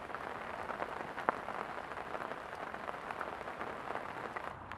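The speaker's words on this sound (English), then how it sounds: "Bit of rain." Rain falls steadily outdoors, a faint, even patter of drops with an occasional sharper tap and no one speaking.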